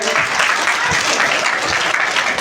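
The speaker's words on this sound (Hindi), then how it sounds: "जोरदार तालियां बजाएं।" Loud, sustained clapping from an audience at a school's annual function, an even wash of many hands with a few louder claps near the start.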